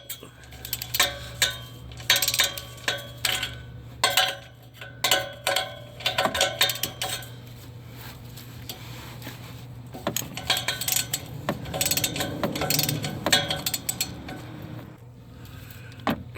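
A ratchet with a 13 mm socket loosens bolts during engine and transmission work on a 2013 Dodge Dart 1.4L, giving bursts of rapid metallic clicking with clinks of tools in between, close and fairly loud, with a low steady hum underneath.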